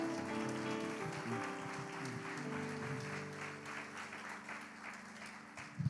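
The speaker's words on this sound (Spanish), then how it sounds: "¿Alguien le puede dar un aplauso a Dios," A church congregation claps and applauds during a sermon, a continuous faint wash of clapping with sustained tones, likely music, beneath it.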